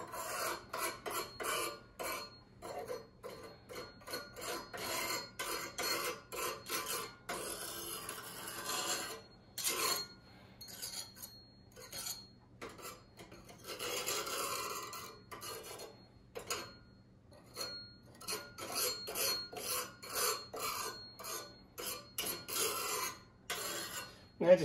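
Ash is scraped off the metal grate of a Ravelli Francesca pellet stove in repeated rasping strokes, close and fairly quiet, coming in bursts separated by short pauses.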